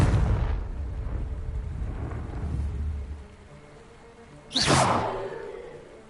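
Confringo explosive spell cast in a Harry Potter video game on PlayStation: a rumbling blast that fades over a few seconds, then a second sharp whooshing burst and boom, loud and close with no voices.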